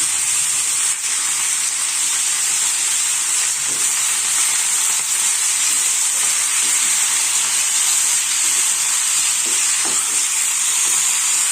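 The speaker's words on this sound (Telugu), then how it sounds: "ఇప్పుడు ఈ ఆకుకూరని వీటిలో వేద్దాము" Leafy greens, including punarnava, atikamamidi and tella galijeru leaves, frying in a hot pan, with a loud, continuous sizzle and hiss and occasional stirring scrapes underneath; nobody speaks.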